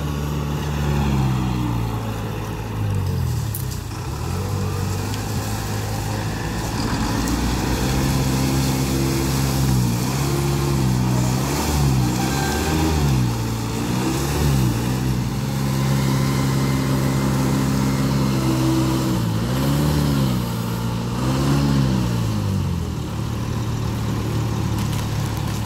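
A Volvo 480 truck at the Santa Clotilde sugar mill runs close by, its heavy diesel engine droning loud and steady with repeated rising and falling revs, heard alone without talk.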